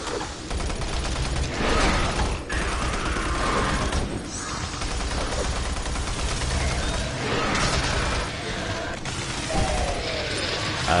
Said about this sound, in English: I'm just going to rely on the fact that the machine gun has flawless accuracy.